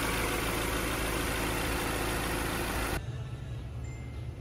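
A 2014 Subaru Forester 2.0i-P with a 2.0 boxer engine idles in a smooth, quiet, steady drone; the loud broadband noise drops suddenly about three seconds in, leaving a softer low rumble.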